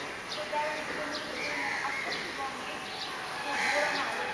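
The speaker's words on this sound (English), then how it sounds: "There's all those birds on the stupa." Many birds on the Boudhanath stupa in Kathmandu at six in the early morning, with scattered short chirps and calls over a steady outdoor hum, fairly faint and spread across the scene.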